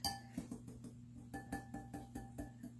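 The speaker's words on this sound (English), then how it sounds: "I'm just going to whisk this a little bit before I put the seasoning in, just to make sure it's well mixed" A whisk beats a mixture in a bowl, giving faint, quick metallic clinks in an uneven steady rhythm, with no one speaking.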